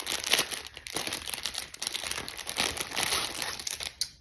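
A plastic peel-back bag from an embroidery kit crinkles and rustles steadily as it is handled close by, with continuous crisp crackling for a few seconds and no talking.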